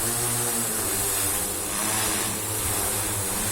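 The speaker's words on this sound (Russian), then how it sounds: "Дрон отлично держится и на складных пропеллерах" SIYI D6 drone motors spinning folding propellers while hovering, giving a steady, loud buzzing whine with a slight swell midway and no talk.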